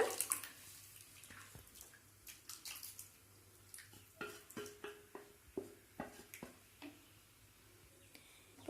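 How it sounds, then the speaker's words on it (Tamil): Pearl millet is poured a little at a time into boiling water and stirred for millet porridge, giving faint, irregular wet splashes, taps and scrapes in quick clusters with no talking. "இப்போ நம்ம கம்பை ஆட் பண்ணிக்கலாம் கொஞ்சம் கொஞ்சமாக ஊற்றி அப்படியே கிளற ஆரம்பிங்க"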